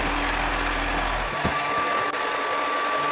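A blow dryer runs with a steady, close rush of air, then its low motor hum cuts off as an attachment comes off, leaving the airflow fainter.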